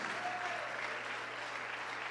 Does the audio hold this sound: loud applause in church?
yes